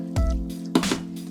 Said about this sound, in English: You just pour this red wine